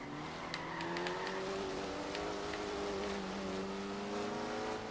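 A Ford supercar engine in the racing game Forza Horizon 3 holds a sustained, steady drone with slowly shifting pitch, heard up close and continuous with no voices.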